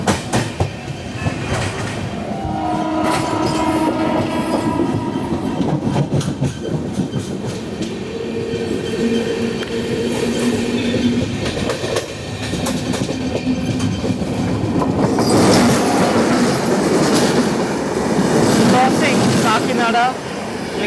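The Mumbai Hyderabad SF Express, number 22732, rolls along the rails with a steady loud rumble, clickety-clack of wheels over joints and occasional squeals and tonal hums, heard from inside the coach.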